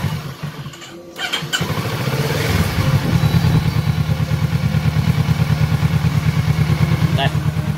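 A motorcycle engine is started and settles into a fast, even putter close to the microphone after some clatter at the start, with music or a voice faintly in the background.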